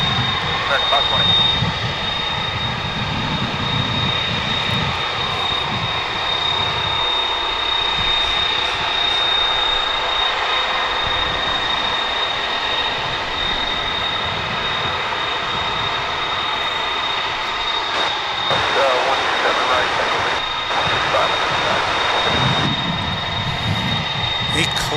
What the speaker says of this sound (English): A classic UPS MD-11, says Craig. I've kind of cranked up the audio there so you can kind of get some of the sense of it